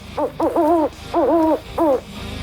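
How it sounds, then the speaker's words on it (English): Owls hooting in a short series of about four wavering calls, each rising and falling, fairly close and clear with quiet gaps between. "if you finally figured out what the owls say"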